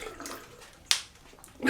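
A shaving brush is rinsed under running water at a sink, with soft splashing and a couple of brief louder water bursts, close and alone.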